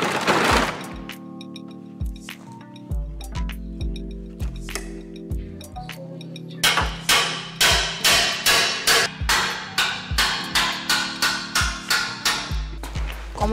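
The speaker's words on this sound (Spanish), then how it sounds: "Como los tornillos estaban muy duros, Bobito, además de la llave fija, usó la carraca." Ratchet and wrench working loose stiff bolts on a truck being stripped down, a steady run of loud, sharp metallic clicks and knocks that turns into rapid repeated ratcheting strokes in the second half.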